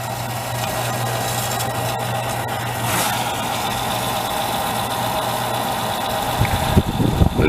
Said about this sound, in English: The motor's turning that roller, which turns the drum, and this drum turns this roller.